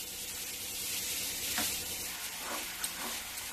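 Thickened milk with sugar and cardamom powder is stirred in a pan for milk barfi, giving a steady bubbling sizzle with soft scraping strokes of the spoon throughout.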